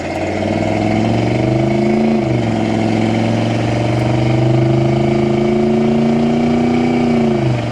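Warmed-up 305 V8 in a 1984 Chevrolet Monte Carlo with an automatic transmission, loud and steady as it pulls under throttle, a dip and shift in pitch partway through, then a sustained climb and easing off.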